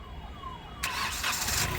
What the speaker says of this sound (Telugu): సింగిల్ సెల్ఫ్లో కార్ స్టార్ట్ అవుతుంది three cylinder three cylinder engine అండి